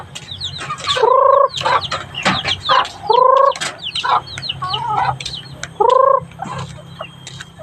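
Chickens cluck and squawk close by while being fed rice, with repeated loud calls in bursts over a steady low background hum.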